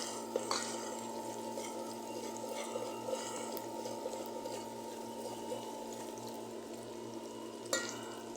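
Beetroot curry in a pot simmers with a steady bubbling and low churning, a few soft scrapes of a spoon stirring through, and a sharper clink near the end; no one speaks.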